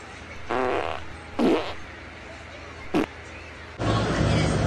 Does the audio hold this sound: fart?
yes